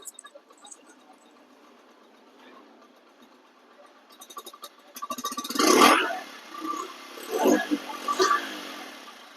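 A second-hand Honda motorcycle engine runs close by, quiet at first and then rising into louder bursts of revving with a mechanical clatter over the last few seconds.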